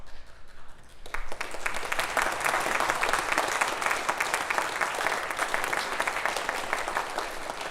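An audience at an Eagle Scout court of honor breaks into sustained applause, a dense, steady roar of many hands clapping that starts abruptly and carries on loud and even throughout.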